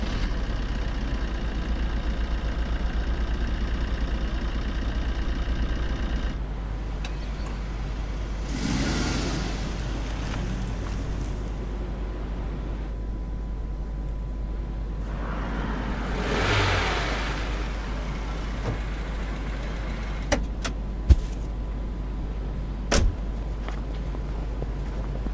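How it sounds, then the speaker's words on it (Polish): A car stuck in snow in the video game This is the Police 2 revs its engine in a steady low drone, with two louder surging swells and a few sharp clicks near the end. "Auto chyba utknęło w śniegu, jeśli dobrze widzę."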